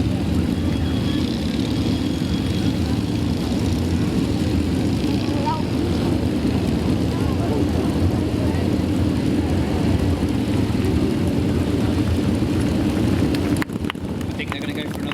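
British Army motorcycle display team bikes run through a pass at an outdoor military display, their engines a steady, continuous drone held at a fairly even level throughout, with a voice talking over it.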